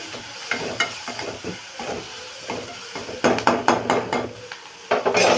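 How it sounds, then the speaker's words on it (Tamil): Onions frying in a pan with salt while being stirred, for brinjal kara kuzhambu: soft sizzling under repeated scraping and clattering strokes of a spoon against the pan, growing louder and sharper toward the end. "கொஞ்சம் வெங்காயம் நல்லா குக் ஆகுற வரைக்கும் கொஞ்சம் நல்லா கலரி கொடுத்துக்கலாம்"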